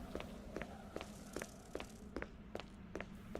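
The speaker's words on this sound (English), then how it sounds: "Do I hear footsteps besides my own?" Regular footsteps in the 2002 Resident Evil game, a steady walking rhythm of distinct, fairly close steps with no talking over them.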